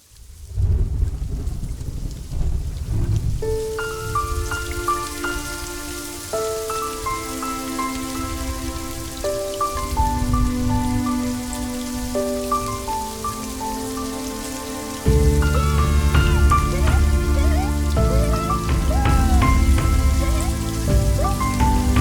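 Steady heavy rain pours throughout a Telugu movie scene, a dense hiss under a melodic music score that swells louder near the end, with no clear thunder.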